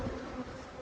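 Massive honey bee colony bearding on hives full of capped cotton honey in West Texas, a dense, steady, close buzzing with no talk.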